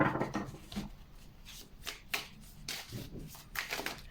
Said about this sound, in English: I'm going to put this Lover's card back in the Starspinner Tarot and use it to shuffle